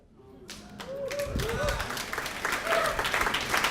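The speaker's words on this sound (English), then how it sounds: "Hold your applause." An audience at an awards ceremony claps steadily, the applause swelling after a moment and continuing at a fairly even level, with a few voices mixed into the crowd noise.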